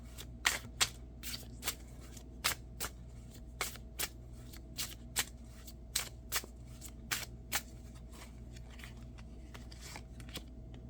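Tarot cards being shuffled and drawn for a love reading, a run of sharp riffling snaps repeating at an irregular rhythm over a low steady hum, close and fairly quiet with no voice.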